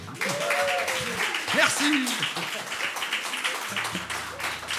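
Audience applause at a live concert at Festival Equinoxe 2024, a steady wash of clapping from a small crowd with a voice speaking over it and a low hum near the end.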